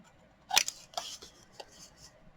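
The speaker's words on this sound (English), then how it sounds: "What I want to do is trim it just a little bit here." Scissors snip a small paper tab for a junk journal, with one sharp close cut followed by a few lighter, quieter snips in a quiet room.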